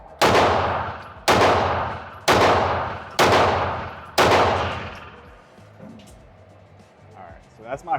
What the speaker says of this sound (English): I'm shooting some 124 NATO. And here's the first shots.